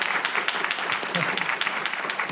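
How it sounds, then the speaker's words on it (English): Welcoming applause from an audience at a candidate forum, a steady patter of many hands clapping close by with no voices over it. "We got an applause, Teddy"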